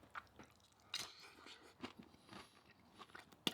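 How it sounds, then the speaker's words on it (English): Someone munching on homemade high-protein, low-fat nachos, with soft, irregular crunches and chewing sounds up close, fairly quiet and with no talking. "while I'm munching away"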